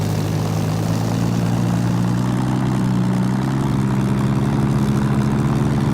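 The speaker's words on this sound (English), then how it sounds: "we're going to set the engine RPM up to about 1500" Supermarine Spitfire piston engine in the FSX flight simulator holds a steady 1500 RPM run-up on the ground with the brakes set, a continuous loud propeller drone with no talking.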